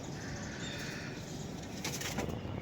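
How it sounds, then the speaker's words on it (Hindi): Released racing pigeons take off together in a broad, continuous rush of flapping wings, with a slightly louder burst of beating near the end. "मैंने उड़ार वाले कबूतरों को खोला और ये ख़ुद ब खुद उड़ गए हैं"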